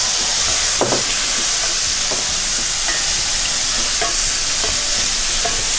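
Parboiled potatoes frying in a hot pan, giving a loud, steady, close sizzle with faint crackles and stirring scrapes throughout and no talking.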